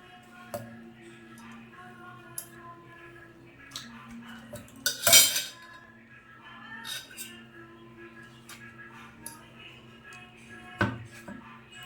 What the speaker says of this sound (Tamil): இந்த மாதிரி கட் பண்ணிவிட்டு அதை அப்படியே ரவுண்டாக எடுத்து மிக்சி ஜாரில் போட்டுக்கலாம்.